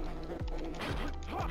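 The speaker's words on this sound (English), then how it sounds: "Just a weird buzzing sound." An enemy in Demons of Asteborg gives off a steady, insect-like electronic buzz that drones continuously, with a few brief swooping tones running over it.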